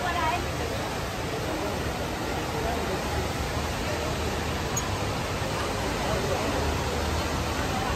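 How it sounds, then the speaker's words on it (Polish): A waterfall across from Singapore airport's international Terminal 1 gives off a steady, full roar of rushing water that masks everything else and stays even from start to finish. "naprzeciwko terminala pierwszego, który jest terminalem międzynarodowym, macie tak piękny wodospad"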